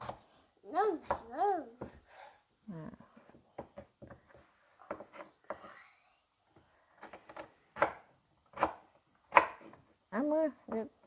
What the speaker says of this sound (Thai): ก็จะตัดหัวหอมนะเพื่อนๆ แบบนี้เลย